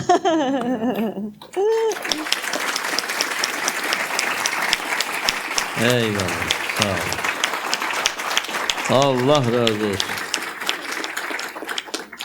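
Audience applause after a talk in a Brazil Tawhid discussion session, sustained and dense throughout, with someone speaking thanks and laughing over it in short bursts.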